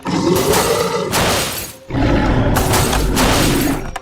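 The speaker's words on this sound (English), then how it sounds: "you can press down on the glass on the top here and try to break in and eat the person that's inside" A Jurassic World toy car's electronic glass-breaking effect plays as two loud, harsh crashing bursts with a brief drop between them, alone without talk.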